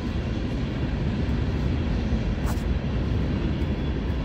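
A steady, broad rumble of a distant Ilyushin Il-78 airplane flying over fills the air, constant and unchanging, with no other distinct sounds.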